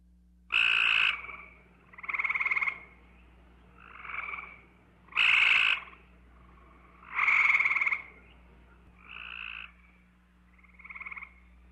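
Cope's gray tree frog's harsh calls, then the eastern gray tree frog's lighter trill, heard as eight evenly spaced pulsing bursts over a low steady hum, with no talking.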